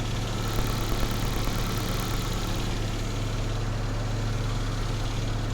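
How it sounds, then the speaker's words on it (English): A 45-year-old Datsun engine idles steadily on its mechanical fuel pump, a continuous loud low hum with a faint rhythmic ticking and no voices. "it's running pretty nicely off of the mechanical fuel pump"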